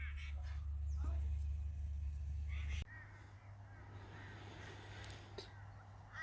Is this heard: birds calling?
yes